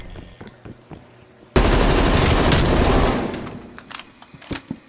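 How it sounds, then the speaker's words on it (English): A sentry turret in Call of Duty: Black Ops Cold War opens up with a sudden loud burst of rapid automatic fire lasting under two seconds, then tails off into scattered distant shots. "Sentry turret going out."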